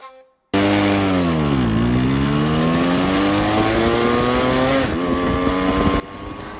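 A Yamaha RX 135 two-stroke motorcycle accelerating hard in a pickup test, engine note dropping then climbing steadily through the gears with a shift near the end, loud and close, with a brief quiet before it starts.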